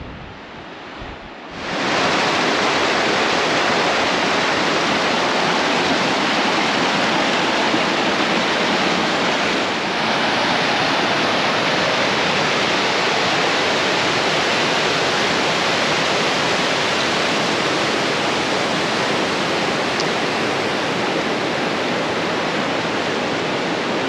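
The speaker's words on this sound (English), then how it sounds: "Looks like a pretty fun little section of whitewater now at low water, working through there on River Right." Steady broadband roar of whitewater rapids on the Middle Fork Salmon River at low water, starting abruptly after a short quiet moment and continuing loud and unbroken, with no voices.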